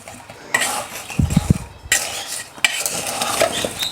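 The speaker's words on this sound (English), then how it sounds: "Just want to give this a stir, just to get it all mixed up" Chopped rhubarb coated in sugar and vanilla being stirred in a pot with a utensil, giving close scraping, clinking strokes and wet shuffling in short bursts, with no voice.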